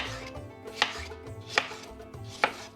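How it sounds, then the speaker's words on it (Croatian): A knife cuts eggplant into strips in three crisp, evenly spaced chops close by, with a quiet background between strokes. "Onda ovako ćemo da posjećemo i na ovakve trakice."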